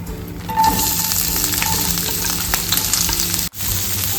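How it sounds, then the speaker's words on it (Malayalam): Sliced onion dropped into hot coconut oil in a pan sizzles loudly and continuously, with a short break near the end before the frying hiss resumes. "വെളിച്ചെണ്ണ ചൂടായിട്ടുണ്ട്. അതിലോട്ട് നമുക്ക് സവാള ഇടാം."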